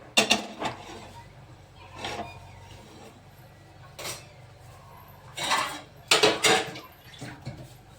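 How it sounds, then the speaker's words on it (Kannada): A metal pressure cooker clanks and knocks against a gas stove grate in several separate bursts, close by, with quiet pauses between them. "ಇವಾಗ ಇದೇ ಗ್ಯಾಸ್ ಮೇಲೆ ಕುಕ್ಕರ್ ಇಟ್ಕೊತೀನಿ ರೀ."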